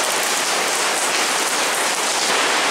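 Heavy rain pours down steadily in Yamato-Takada during a heavy-rain warning, a dense, loud, unbroken roar of water with no pauses and no voices.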